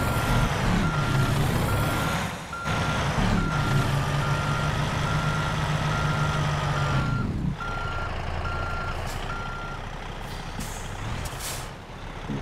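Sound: truck reversing beeps while backing up, from video game American Truck Simulator

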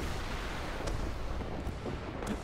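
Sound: missile firing in War Thunder video game

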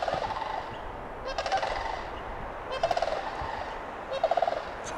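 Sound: calls of large cranes or herons

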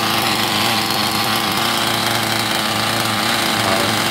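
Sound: Scuderia 7 port model engine running after starting

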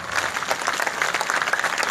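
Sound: crowd clapping

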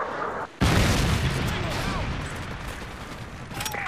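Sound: Predator missile airstrike explosion in video game Modern Warfare 3

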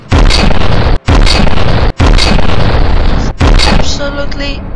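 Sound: fortress weapons firing in the video game From The Depths

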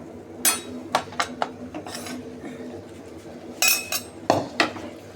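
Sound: fried potatoes being added to the pan

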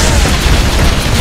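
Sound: gunshots from a video game

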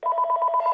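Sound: telephone ringing

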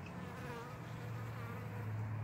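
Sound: bee flying in to the hive

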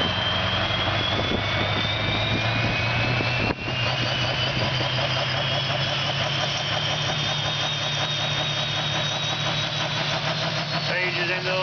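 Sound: Oliver 2255 tractor with V8 Caterpillar engine running

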